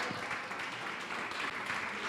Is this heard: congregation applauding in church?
yes